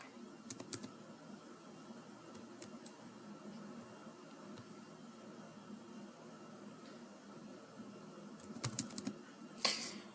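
Keystrokes on a computer keyboard while filling in an online US visa application form: sparse, faint taps spread across the stretch, with a quick cluster near the end and low room hum underneath.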